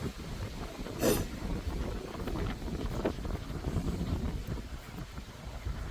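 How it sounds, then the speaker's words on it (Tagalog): Strong gusty wind buffets the microphone in an Australian lavender garden, a steady roaring rush with a sharper blast near the start and no clear voices. "Hangin grabe ka naman."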